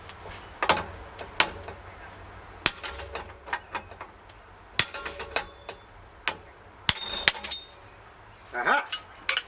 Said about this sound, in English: Let me see if I can pound it out.